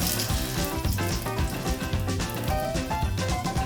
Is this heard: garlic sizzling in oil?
yes